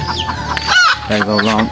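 A single chicken being taken for sale clucks loudly and close, a string of sharp, harmonic squawks and clucks filling the short moment.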